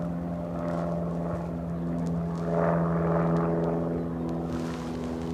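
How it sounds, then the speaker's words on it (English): Small Cessna propeller plane droning nearby, a steady low engine hum that swells slightly and then eases, with no voices. "I hear aircraft nearby. Small Cessna"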